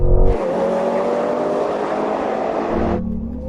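Several performance SUVs, a Lamborghini Urus SE, Ferrari Purosangue, Porsche Cayenne Turbo and Audi RSQ8, roar past together in a drag race, a loud sustained engine howl with rising pitch that cuts off sharply near the end.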